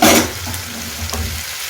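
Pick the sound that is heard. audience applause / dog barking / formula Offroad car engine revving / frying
frying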